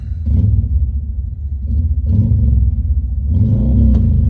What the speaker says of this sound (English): Hey, you hear that? That's a motorcycle.